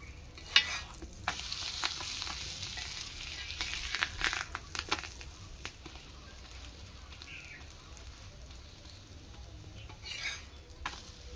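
Pumpkin pieces fry in a pan with a steady, moderate sizzle, broken by occasional stirring scrapes and clicks of a utensil. The frying is close and continuous, with no speech.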